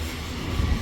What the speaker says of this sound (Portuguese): 124 vagões carregados com soja